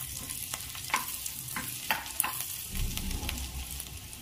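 Soft sizzling and light stirring of chopped garlic in a pan, with occasional scrapes and a louder frying hiss swelling near the end, no talking.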